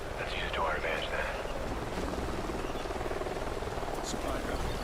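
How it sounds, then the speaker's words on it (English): Helicopter flying ahead over canyons in the Call of Duty Ghosts video game, a steady low rotor drone heard at a distance beneath quiet voiced radio chatter. "Sounds like a chopper's up ahead of us."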